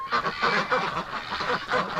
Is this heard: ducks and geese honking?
yes